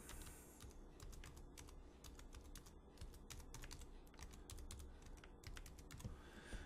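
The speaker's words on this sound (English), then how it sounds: "And so I got to type in the password." A password is typed on a computer keyboard in quick, irregular bursts of sharp key clicks, close but faint, with short pauses between runs of keystrokes.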